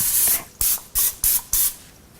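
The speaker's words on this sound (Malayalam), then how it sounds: "ഒരു റോസ്റ്റിംഗ് പാനിലോട്ട് ആവശ്യത്തിന് സ്പ്രേ ചെയ്തതിന് ശേഷം" Five short hissing bursts of cooking spray into a roasting pan in quick succession, each sharp and close, with brief silences between.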